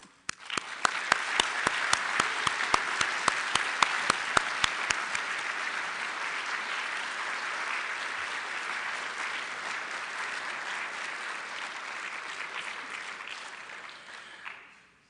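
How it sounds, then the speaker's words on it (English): Banquet guests give a standing ovation, a few sharp individual claps starting it before the room swells into sustained, even applause that holds steady and then stops abruptly. "would you please stand and accept a round of applause to show our appreciation"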